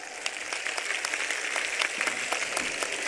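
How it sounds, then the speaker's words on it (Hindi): A crowd at a BJP political rally in Bhadra claps continuously, a dense, steady wash of applause with sharper individual claps throughout and no speech. "जोरदार ताली के साथ"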